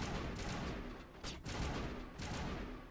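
Video game gunfire crackling in dense bursts, a loud, continuous rattling fusillade with brief gaps, filling the whole clip with no voices over it.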